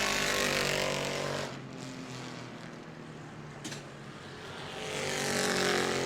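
Bomber-class race cars roaring around the New Smyrna track late in a race, a loud engine drone that dips as cars pass and then swells again, close and continuous.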